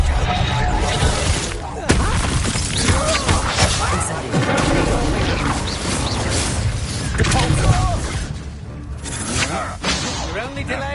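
Confringo blasting spells in Hogwarts Legacy gameplay set off loud, repeated explosions and crashes, with whooshes and impacts packed densely throughout, under bits of in-game voice.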